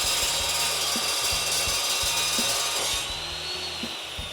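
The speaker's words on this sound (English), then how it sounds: "What I like so much about this kind of saw, these cold saws, carbide saw or whatever you want to call it" A carbide cold saw grinds steadily through a large piece of metal, close and loud, with a low rhythmic churning pulse about twice a second and a high whine that shifts pitch as the cut finishes.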